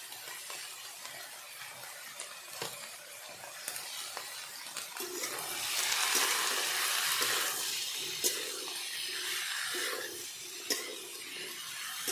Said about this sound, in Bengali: তো প্রথমে আমি এগুলো কিছুক্ষণ ভেজে নেব।